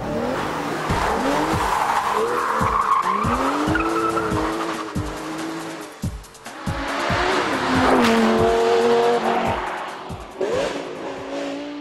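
An Aston Martin driven hard, its engine revving up and down in rising sweeps with repeated gear changes, as tyres squeal and skid through corners, loud and close throughout.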